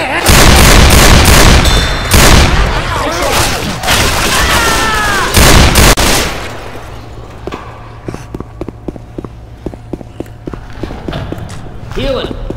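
Gunfire in the video game Left 4 Dead 2, with heavy, loud bursts of shots and booms in the first half, then scattered sharper single shots and clicks, mixed with shouting voices.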